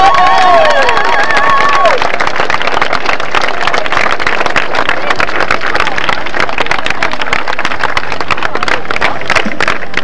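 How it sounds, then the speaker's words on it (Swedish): A festival crowd applauds a drummer and percussionist at the 1991 Hultsfred festival in Sweden, with dense, loud, continuous clapping and cheering filling the space. "så jag vill att ni klappar som fan på honom"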